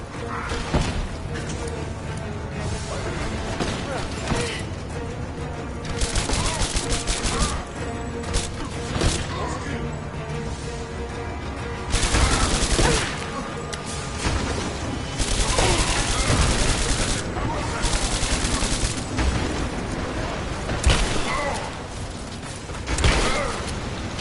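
SMG fire in Rise of the Tomb Raider, loud rapid bursts of automatic gunfire that come and go in clusters amid combat noise, with someone speaking now and then.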